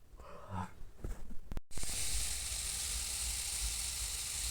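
Chopped onions hit hot oil in a pan for an aloo chingri curry, setting off a loud, steady sizzle after a few seconds of stirring clatter, and it keeps going on its own with no talking.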